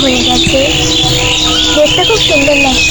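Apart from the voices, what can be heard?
birds chirping on a foggy winter morning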